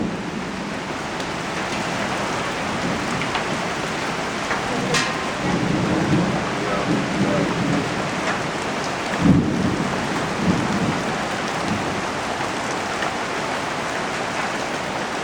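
Heavy rain pours steadily over soaked woods in a thunderstorm, a loud continuous hiss with deep thunder rumbling in around the middle and again a few seconds later, no voices.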